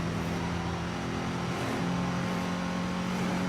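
A video game car engine from Midnight Club 3 DUB Edition on PS2 drones loudly and steadily, its pitch dipping and rising as the car works through a turn, with no talk over it.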